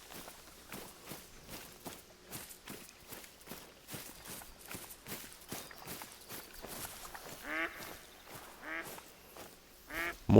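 Ducks quack in the hunting game Hunter Call of the Wild, a few nasal calls near the end over a steady rhythm of crunchy footsteps through brush, with a soft voice briefly heard.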